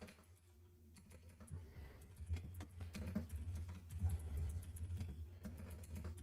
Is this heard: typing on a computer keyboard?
yes